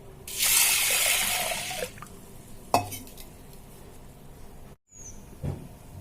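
Running tap water splashes over lentils being washed for over a second, then stops; a few knocks and clinks of a pot follow in a quiet kitchen.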